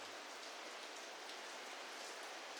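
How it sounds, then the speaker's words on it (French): Heavy rain pours down steadily, a dense, even hiss of drops on surfaces that continues without a break at a soft, distant level. "La pluie est trop forte."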